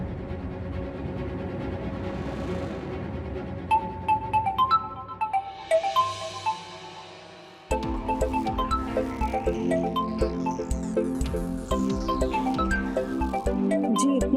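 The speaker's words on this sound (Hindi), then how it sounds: "इतनी रात को किसका फोन आ रहा है?" A phone rings at night in a crime drama scene, giving a repeating electronic ringtone melody over a tense music bed that lasts around fourteen seconds.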